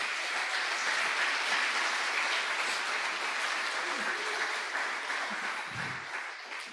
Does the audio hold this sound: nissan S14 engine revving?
no